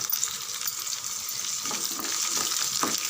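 Whole garlic cloves sizzle in oil in a pan while kara kuzhambu is being cooked, giving a steady, close crackling hiss with a few faint clinks partway through.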